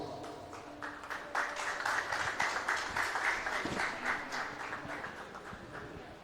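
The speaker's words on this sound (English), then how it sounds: "in me in welcoming His Grace Sadhubhusan Das with a warm round of applause." Steady applause from a crowd, broad clapping that swells and holds for several seconds at moderate loudness.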